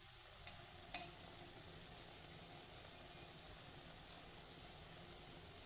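Mung dal fritters frying in hot oil give a soft, steady sizzle, broken early by a couple of light clicks, with no one talking.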